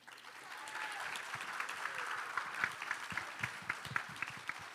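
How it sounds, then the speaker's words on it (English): An audience applauds at a workplace talk on generational differences as people begin to exit. Steady, moderately quiet clapping from a crowd, with a few sharper individual claps standing out. "yes, clap."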